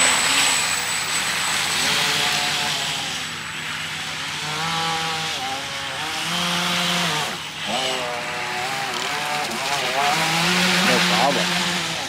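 A 3D-printed RC jetboat motor, powered by a 5,000 mAh battery, whines steadily on water for the whole stretch, its pitch rising and falling with throttle changes and turns, loud and close.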